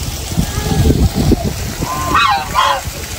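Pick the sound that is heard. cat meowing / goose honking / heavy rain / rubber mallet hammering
goose honking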